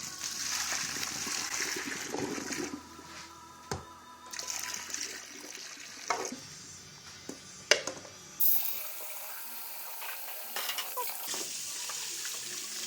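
Running tap water splashes and trickles into a metal pot as it is rinsed with cold water, with clanks and brief pauses as the flow changes and stops, then resumes.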